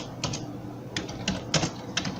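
Typing out a C program on a computer keyboard: quick, irregular clusters of light plastic key clicks, close and fairly quiet, with short pauses between bursts.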